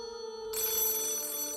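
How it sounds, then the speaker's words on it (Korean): A telephone bell starts ringing abruptly after a low hum, a bright, loud, continuous electric ring with no voices over it. "전화가 울렸다."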